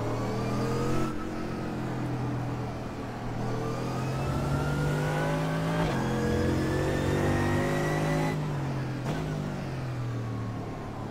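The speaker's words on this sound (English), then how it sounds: "I just love the way this car drives" Mercedes AMG race car in the iRacing video game, engine loud and close, pitch climbing through repeated gear shifts with brief drops at each upshift, no talk.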